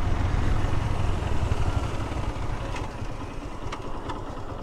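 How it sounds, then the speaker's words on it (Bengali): A motorcycle idles while parked in gear on a hilly road in Bandarban near Nilgiri, a steady low engine rumble throughout with no voices. "গিয়ার দেওয়ার পরও তো আমার বাইক চলে, স্টার্ট হয়ে গেছে অ্যাকচুয়ালি।"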